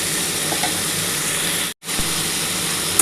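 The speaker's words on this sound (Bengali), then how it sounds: "বন্ধুরা দেখো আলু আর ফুলকপিটা একটুখানি ভাজা হয়ে গেলে আমি এর মধ্যে কিন্তু নুন দিয়ে দেবো" Potato and cauliflower frying with chilli powder in a pan for a vegetarian aloo posto, a loud, even sizzle and hiss close up, cut by a brief silent break before the frying continues.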